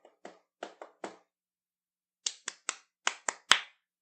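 Bare hands clap out triplet rhythms, first a soft group of four claps, then after a pause a louder run of six crisp claps, each one sharp and close, with no talk over them.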